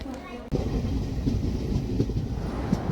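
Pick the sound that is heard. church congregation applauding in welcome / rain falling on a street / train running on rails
train running on rails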